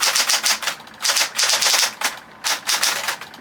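A Coronet Super 10 typewriter clacks loudly in rapid bursts of keystrokes separated by brief pauses, sharp and close with no voices.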